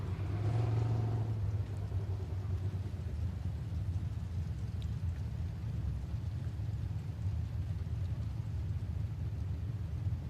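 A dirt track race car runs a time trial lap at a speedway, its engine a steady low rumble heard at a distance, with a brief louder swell at the start and then holding constant throughout.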